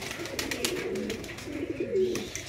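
Breeder pigeons, nervous and wary, coo in low, throaty, repeated phrases close by, with a faint rustle and some higher chirps in the background.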